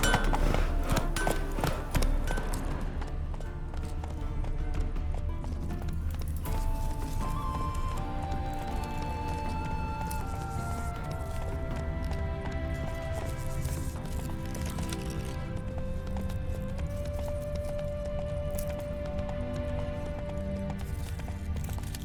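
Roach, the horse in The Witcher 3: Wild Hunt, galloping with a steady, rhythmic clatter of hooves that carries on throughout under sustained tonal music.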